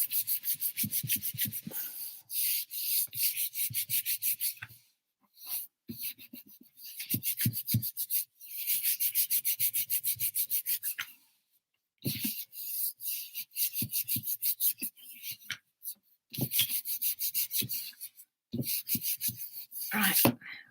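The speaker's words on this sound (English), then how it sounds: "give it a good rub" Sheet of paper laid over an inked print and rubbed firmly by hand to transfer the ink, making repeated bursts of raspy scrubbing strokes separated by short pauses, close up with no talking.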